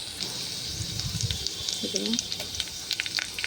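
Oil crackles and sizzles steadily as curry leaves and chillies hit the hot pan with cumin, with a few sharper pops and soft stirring noises throughout.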